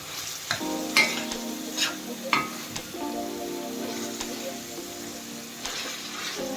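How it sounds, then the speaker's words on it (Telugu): Tomato pieces frying and being stirred in oil for a tomato egg curry, a steady sizzle with scraping stir strokes and brief clatters throughout, close and alone. "ఈ టొమాటో కూడా మనకు పచ్చి వాసన పోయి నూనె పైకి తేరుకునేంత వరకు ఇది మంచిగా గోలించుకోండి"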